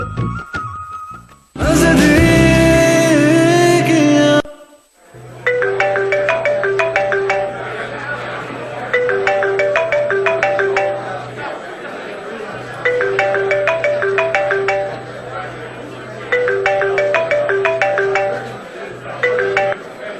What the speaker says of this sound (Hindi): तीसरी बार कॉल कर रही हूँ मैं। अगर तुम अभी भी फोन ना उठाते